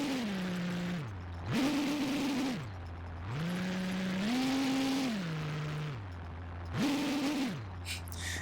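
A simulated inline-8 engine in Garry's Mod revving repeatedly, its tone climbing and falling in smooth sweeps between a low idle and a higher-pitched whine, loud and close.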